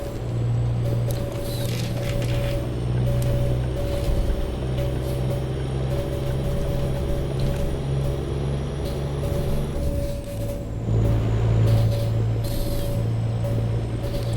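Heavy truck engine with open exhaust pipes in Euro Truck Simulator 2, a deep steady drone with a constant mechanical whine on top, loud and continuous throughout with a brief dip in intensity partway through, no talking.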